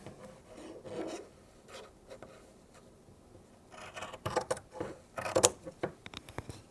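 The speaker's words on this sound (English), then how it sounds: "Just trim along that edge." Scissors or a rotary cutter trimming the edge of a quilt before binding, a soft intermittent rasping and rubbing that grows busier and louder toward the end, close by with no talk.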